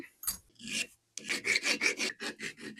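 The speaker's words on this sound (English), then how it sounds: "just get a file on that end, just tidy up the thread a little bit" A hand file rasps across the cut end of a steel threaded bar, a short pass and then a quick series of about eight even back-and-forth strokes, close and alone.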